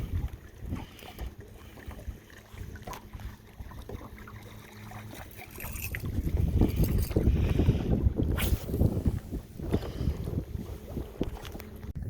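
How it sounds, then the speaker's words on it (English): Bow-mounted trolling motor running on a fishing boat, a steady motor drone mixed with water splashing and gusty wind noise that grows louder partway through. "This bow mounted trolling motor is fucking awesome."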